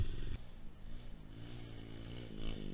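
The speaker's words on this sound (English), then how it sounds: "got the new SSR 125 pit bike out here today" An SSR 125 pit bike engine idles and burbles low and steady, close by, with a slight rise in revs near the end of the short stretch.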